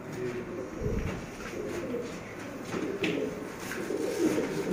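Close pigeon cooing from a pure Sialkoti breed bird with pearl eyes, soft repeated low coos over steady background noise.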